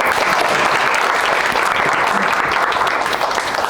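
Students in a high school meat-cutting class applaud after a pork front-leg deboning demonstration, a loud, dense, steady clapping that fills the whole stretch without pause.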